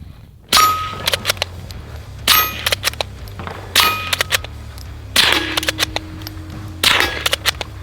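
A suppressed bolt-action .22 rimfire rifle fires at a steel plate, first supersonic then subsonic rounds, and each hit rings out as a sharp metallic clang with a short ringing tail, about five spaced impacts with no voices.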